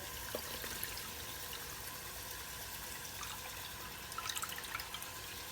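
Hatched brine shrimp (artemia) get a final rinse under running water, a steady, fairly faint hiss of flowing water with a few small splashes and trickles near the end.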